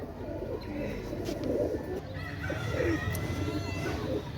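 Pakistani high-flying Teddy pigeons coo faintly in a busy loft, their low murmuring calls mixed with steady background bird and fowl noise throughout.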